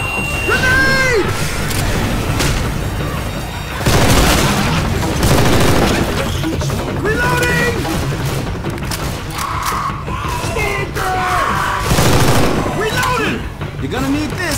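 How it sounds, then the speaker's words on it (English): A grenade blast and bursts of gunfire in Left 4 Dead 2, loud and close, with a heavy boom near the start and another later, shots crackling throughout while characters shout over the fighting. "Grenade!"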